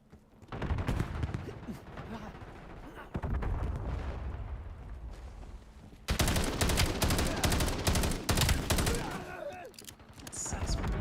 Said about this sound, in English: This gun shoots in freaking triplets,